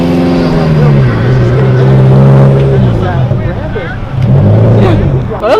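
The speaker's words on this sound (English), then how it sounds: "Oh, that little Miata going for it." A little Mazda Miata pushes hard around an autocross course, its engine droning steadily with rising and falling pitch as it works through the cones, loud and close, with voices talking over it.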